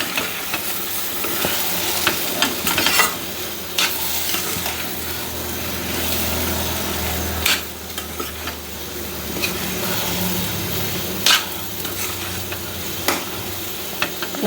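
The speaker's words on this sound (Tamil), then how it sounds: "பாசிப்பருப்பையும் போட்டு நம்ம வறுத்த ரவை தேங்காய்லாம் இருக்குல்ல, அது எல்லாத்தையும் சேர்த்து நல்லா ஒன்றா மிக்ஸ் ஆகிற அளவுக்கு" Roasted semolina, grated coconut and moong dal are stirred together in a pan for Chettinad ukkarai, giving steady scraping and mixing sounds over a soft sizzle, close and continuous, with no talking.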